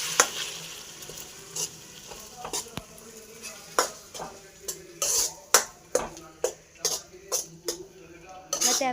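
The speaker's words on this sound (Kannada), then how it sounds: "ಆ ಪೇಸ್ಟ್ ಹಸಿ ಸ್ಮೆಲ್ ಹೋಗಿ ಘಮ ಸ್ಮೆಲ್ ಬರೋ ತನಕ ಫ್ರೈ ಮಾಡಿ" Masala paste for chicken curry fries in a pan while a spoon stirs and scrapes it, sending sharp metallic clinks in an uneven rhythm over a soft sizzle close by.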